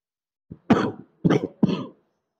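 A man recovering from a cough during a church prayer meeting coughs three times up close, one small catch and then three rough, separate bursts in an uneven rhythm.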